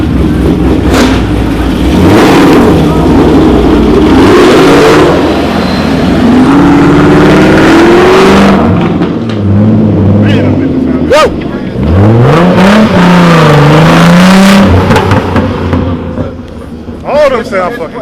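A DSM car revving at a car show, loud engine pitch sweeps rising and falling in repeated bursts amid crowd noise and people talking nearby.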